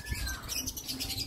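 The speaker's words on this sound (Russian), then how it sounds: "О, птички. Вот, слышишь?" Small colourful birds chirp near a golf course, a scatter of soft high tweets over faint outdoor background, fairly distant and continuous.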